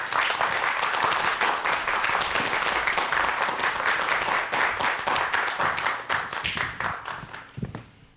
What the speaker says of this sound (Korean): 최인성 교수님 박수로 환영해 주시기 바랍니다.